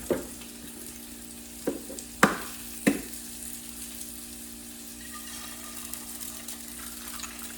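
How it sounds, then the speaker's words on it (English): Eggs frying in a pan give a steady, moderate sizzle that carries through, broken early by a few sharp clinks and knocks of utensils against the pan, then settling into continuous crackle. "Let me put my eggs in the pan before the pan start burning or whatever."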